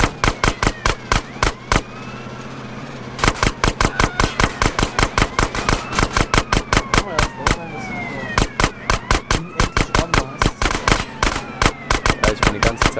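Rapid bursts of gunfire in GTA San Andreas during a police chase with bikers, loud sharp shots in fast regular volleys throughout, briefly pausing, with sirens and game voices underneath.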